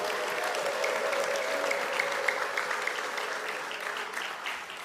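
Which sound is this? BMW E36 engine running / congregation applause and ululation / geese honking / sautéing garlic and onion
congregation applause and ululation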